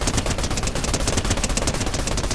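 Rapid automatic gunfire in the Fortnite video game, a loud, dense, continuous rattle of shots filling the whole stretch with no pauses and no talk.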